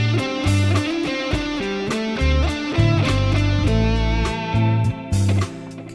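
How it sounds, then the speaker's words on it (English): An electric guitar picks steady eighth notes over a backing track of bass and drums, with even, closely spaced notes, close and prominent throughout. "eighth notes would obviously sound like this"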